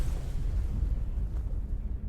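An explosion in Enderal: Forgotten Stories, a deep rolling rumble that sustains and slowly fades, with no voices.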